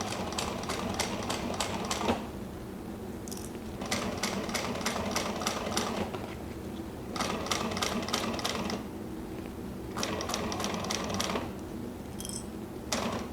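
An industrial sewing machine runs a regular piping seam through suede-sided leather in bursts of rapid needle clatter separated by quieter pauses of low motor hum, close and fairly loud.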